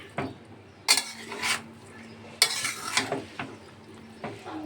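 Mutton marinade being stirred and mixed by hand or spoon in a bowl, producing a few wet, scraping bursts separated by short pauses, close and clear, with no speech over them.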